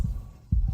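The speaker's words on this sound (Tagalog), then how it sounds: "mabilis ang tibok ng puso" A fast heartbeat sound effect in a drama gives deep, muffled thumps in quick lub-dub pairs, close and isolated against a quiet hum.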